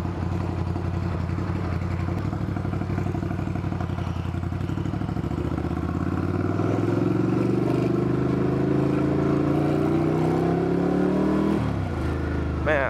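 A 2022 Ducati Scrambler Nightshift motorcycle rumbles loudly while being ridden, its engine note rising steadily in pitch as it accelerates, then dropping sharply near the end, with wind noise throughout.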